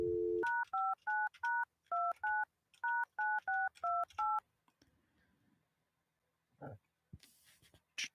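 A telephone number is dialed in quick touch-tone beeps, about a dozen loud, evenly paced tones in a row, then near silence with a few faint clicks and a short burst at the end.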